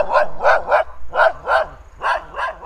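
A dog trails along through abandoned spa grounds in Tskaltubo, Georgia, barking close by. It gives about seven loud, sharp barks in uneven pairs and triplets, and no one talks over them.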